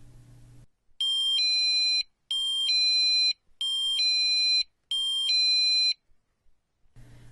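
Wireless driveway motion sensor alarm on its quieter low setting plays four two-tone electronic beeping bursts at a steady rhythm, clear and alone, with faint room murmur before and after.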